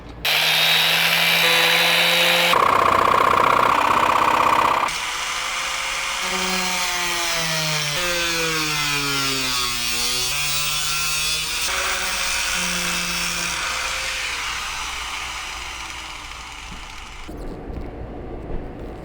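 A power saw cuts through the metal wall of a Sprinter van to open a new window, with a loud, buzzing whine whose pitch rises and dips as the blade works, then stops near the end.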